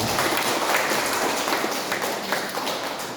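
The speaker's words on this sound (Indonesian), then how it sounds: "tepuk tangan untuk Tuhan Yesus" A church congregation applauds in a dense, steady wash of clapping that fills the room from start to finish, close and loud.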